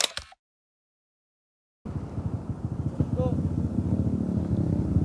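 A motorcycle engine with an unsteady throttle runs close by after a brief silence, its rough, pulsing idle rising and falling unevenly while someone talks over it.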